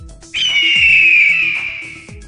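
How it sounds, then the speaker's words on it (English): An eagle call used as a guessing-game sound effect: one loud, shrill, descending scream held for over a second against a faint low backing. "The bird you heard is an eagle, they're one of the many large birds of prey."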